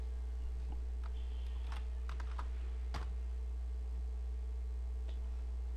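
Computer keyboard keys tapped while entering text in Photoshop, a quick irregular run of clicks over a steady low hum, fairly close and alone without speech.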